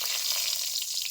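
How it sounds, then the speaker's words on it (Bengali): Dry red chilies drop into hot oil for tempering, producing a steady, close, bright sizzling hiss that holds evenly throughout with no voices. "ফোড়নে দিয়ে দিচ্ছি শুকনা লঙ্কা,"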